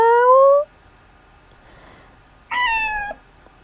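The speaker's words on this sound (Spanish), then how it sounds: "Veo por acá unos gatos y el gato hace mau." A cat meows twice, two clear, close calls separated by a couple of seconds of near-silence.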